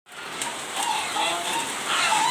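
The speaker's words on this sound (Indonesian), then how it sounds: "Ini kok malah hujan" Steady hiss of rain falling at an ornamental chicken farm, a continuous broadband wash that swells slightly over time, with faint indistinct sounds beneath.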